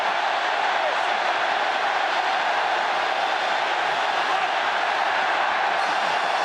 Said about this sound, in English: So listen to the crowd.